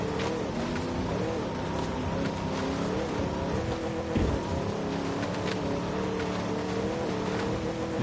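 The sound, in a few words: off-road vehicle engine driving over sand dunes in video game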